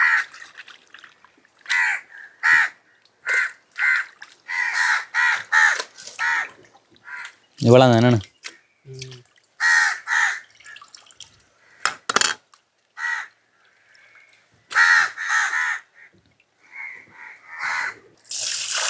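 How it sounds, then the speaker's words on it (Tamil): Crows caw loudly and repeatedly nearby in quick bursts in a village, with a person speaking briefly and some splashing water in between as a crow drinks. "எனக்கு பின்னால் காகம் அது தண்ணி எடுக்கிறது"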